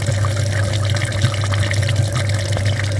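A pressure washer sprays water steadily over a VW Passat B7 American version, a continuous close hiss and spatter with an underlying pump hum and no talk.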